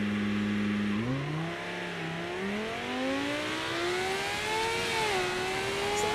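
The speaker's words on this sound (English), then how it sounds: "It's the F1 engine." An F1 car engine in the BeamNG driving game revs up steadily, its high whining pitch climbing with each gear, loud and continuous without any talk.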